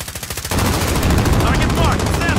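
Rapid automatic gunfire in the shooter game Warzone, a few separate shots at first, then a loud sustained burst of close machine-gun fire with faint voices underneath.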